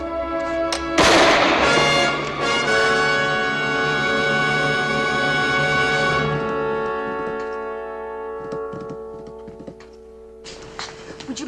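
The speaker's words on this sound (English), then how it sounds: "I imagine the report you heard a moment ago may have sounded like gunfire. It was gunfire." A single loud gunshot rings out in a dramatic scene from a 1960s frontier television western, followed by a long fading reverberant tail and quieter background tones, with no talk.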